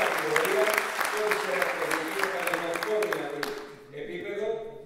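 Crowd applause at an award ceremony for a Saronikos women's sports team promoted to a higher division: sustained, dense clapping with voices mixed in, thinning out near the end.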